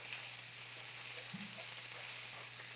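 Onions sizzling in olive oil in a pan for French onion soup meatloaf, a steady close frying hiss with a soft stir or scrape partway through and no talking.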